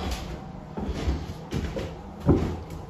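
A wardrobe door fitted with a recess handle being opened and closed: a series of soft wooden knocks, thuds and sliding rubs at close range, with one firmer bump near the end.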